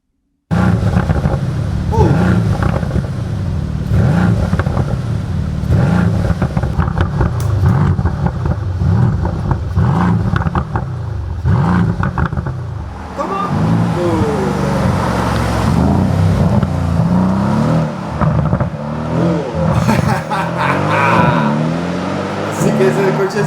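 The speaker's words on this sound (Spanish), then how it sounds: "Suena muy bien el Mercedes." A Mercedes C63 S AMG engine revs and roars loudly and continuously, its deep rising and falling pulls heard through video playback with a voice talking over much of it.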